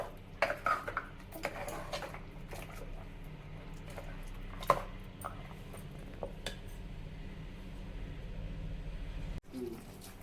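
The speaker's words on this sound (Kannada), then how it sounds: "ಈಗ 1-2 ಸುತ್ತು ತಿರುಕೊಂಡು ಒಂದು 5 ನಿಮಿಷ ಫ್ರೈ ಮಾಡೋಣ" Mutton sambar masala being stirred and fried in a pot, with scattered metal spoon clinks and scrapes against the pot over a low steady kitchen hum, moderately quiet throughout.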